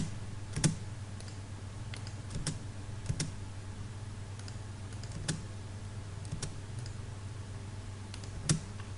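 Computer keyboard key presses while working in Civil 3D software, sparse single clicks spaced a second or so apart over a steady low electrical hum, quiet and close.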